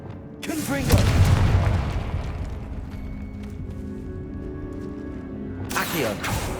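A Confringo spell blast in Hogwarts Legacy, a deep booming explosion with a rumbling tail that fades into low ambience, followed by a second burst near the end; a voice shouts briefly.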